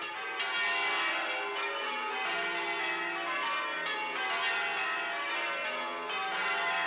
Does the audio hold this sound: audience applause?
no